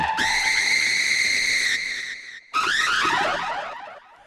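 A Korg ARP 2600 synth patch made to scream, a loud, shrill, harmonically rich wail held steady, then after a brief dropout a second cry that bends downward and fades.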